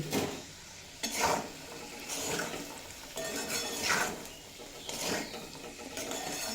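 Green peas are fried and stirred with spices in a pan for a vegetarian ghugni, with repeated scraping strokes of a spatula about once a second over a soft sizzle and no talk.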